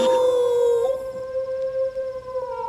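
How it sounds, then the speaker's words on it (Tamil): A dog howls in the distance as a film sound effect, a long, steady, mournful tone that starts loud and fades slightly while holding its pitch, with no talk over it. "தூரத்துல ஒரு நாய்"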